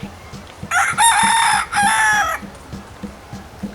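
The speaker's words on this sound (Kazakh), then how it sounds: "Таң атқанда әтеш кукареку деп шақырып адамдарды оятады." A single rooster lets out a loud, close cock-a-doodle-doo in two drawn-out bursts, set over a soft, steady rhythmic tapping in the background.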